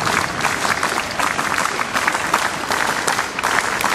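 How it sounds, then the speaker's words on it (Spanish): Loud crowd applause at a political party memorial tribute, dense continuous clapping from many people that holds at an even level throughout. "Aplauso fuerte a la memoria de don Víctor Raúl Haya de la Torre."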